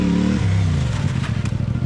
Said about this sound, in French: Kevin essaye de faire des dérapages.